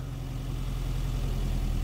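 Small engine idles at a steady, low rumble, close and continuous, with no pauses and no voices over it, while the choke is adjusted down toward about 1,100 rpm.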